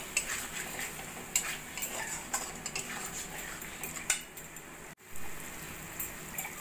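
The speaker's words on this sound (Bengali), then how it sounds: "টমেটো সসটাকে মাংসের সঙ্গে ভালো করে মিশিয়ে নেব।" A metal spoon scrapes and clinks in a pan while tomato sauce is stirred into fried chicken, with irregular taps over a soft sizzle, fairly close and quiet.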